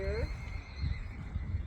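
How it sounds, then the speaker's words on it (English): Horses neighing nearby around a round pen, one whinny opening the moment before fading into low rumbling activity and background noise. "He heard those horses over there"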